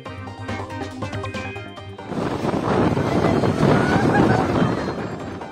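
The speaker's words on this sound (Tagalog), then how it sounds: "naranasan ng malakas na bugso ng hangin na sinabayan ng pag-ulan" Strong gusts of wind with rain in Dumaguete City, Negros Oriental: a dense, roaring rush of wind and rain builds abruptly after a brief quieter stretch and stays loud to the end, with background voices early on.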